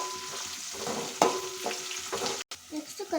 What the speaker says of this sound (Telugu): నెక్స్ట్ కరివేపాకు, నెక్స్ట్ ఆనియన్, ఆయిల్ మంచిగా ఫ్రై చేసుకోవాలి.